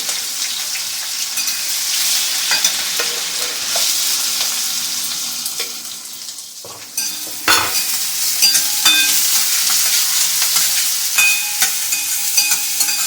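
Onion and coriander sizzle in a hot oil tempering with green chillies while being stirred. A loud, close, continuous frying crackle is punctuated by spoon scrapes, briefly dips, then resumes with fresh sizzling bursts.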